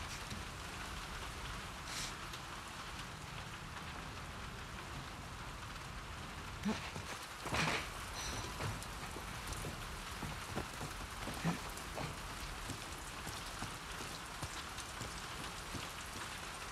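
Steady rain falls in The Last of Us Part II, a constant soft hiss with occasional heavier splashes and drips, quiet and unaccompanied by voices.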